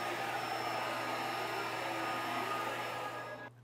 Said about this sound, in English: I'm going to jog my machine all the way over to the right as far as it will go